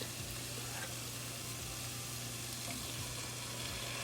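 Dal being poured into a pan of sizzling tempered spices for restaurant-style dal makhani, giving a steady frying sizzle and hiss with faint stirring, no voices.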